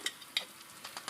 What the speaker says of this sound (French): on fait déjà fondre du beurre